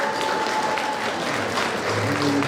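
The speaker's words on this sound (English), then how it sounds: "ladies and gentlemen, please, a round of applause" Audience at the Jamaica 60 Diamond Jubilee gala applauding an honoree taking the stage. Steady, dense clapping from a large crowd holds at an even level throughout, with faint voices underneath.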